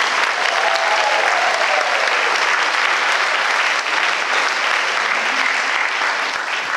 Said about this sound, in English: Clap for them one more time.